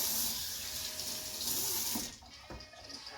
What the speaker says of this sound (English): Now wash hands.